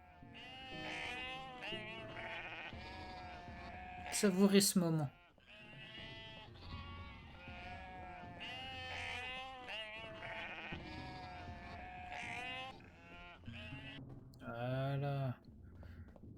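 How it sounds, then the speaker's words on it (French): Sheep bleating in the video game Unmetal, two loud, wavering bleats standing out over continuous talk and game sounds. "Ah, les moutons."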